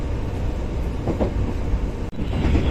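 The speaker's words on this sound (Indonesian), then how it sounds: "kereta melaju dengan cepat ketika melewati stasiun ini" A long-distance executive-class train on the Jakarta to Malang route runs fast through a station, heard from inside the carriage as a loud, steady rumble with rattling and clicking wheel noise.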